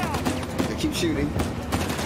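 Gunfire in Uncharted: The Lost Legacy, rapid bursts of shots cracking close and loud in a continuous volley, with voices talking over it.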